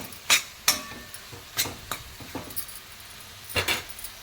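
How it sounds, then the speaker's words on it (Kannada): Chilies, garlic, ginger and jaggery sautéed over a low flame in a pan, heard as a soft background sizzle broken by several sharp clinks and scrapes of a spoon stirring against the metal. "ಹಾಕಿ ಚೆನ್ನಾಗಿ ಒಂದು 2 ನಿಮಿಷ ಕಾಲ ಹಸಿ ವಾಸನೆ ಹೋಗೋ ತನಕ ಚೆನ್ನಾಗಿ ಬಾಡಿಸ್ಕೊಳ್ಳೋಣ"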